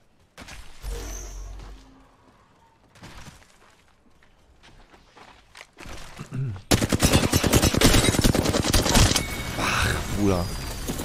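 Rapid bursts of Wingman revolver gunfire from the video game Apex Legends crack loudly in the second half, layered with game effects, after quieter sounds and some talk.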